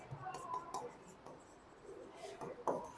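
Marker or chalk strokes scratch across a board during a Class 10 maths lesson, in short irregular bursts that are close and faint against room noise.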